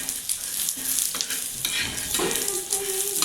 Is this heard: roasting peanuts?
yes